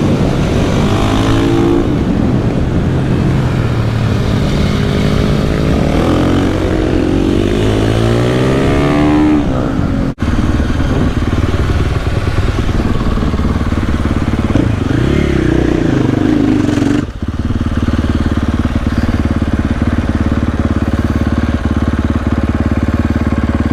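A motorcycle engine runs close by after a minor fall, idling loudly with several rising and falling revs, a brief cutout midway, then settling into a steady, even idle.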